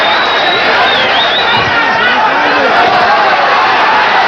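A boxing crowd roars and cheers during a professional bout, loud and sustained, with an announcer's commentary running over the noise.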